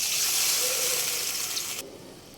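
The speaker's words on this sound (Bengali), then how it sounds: "এখন আমি পানি দিব।" Water poured into a pan of fried spices (cumin paste and salt) while cooking hilsa fish with taro stolons: a soft hissing gush and sizzle, close and steady, cutting off abruptly near the end.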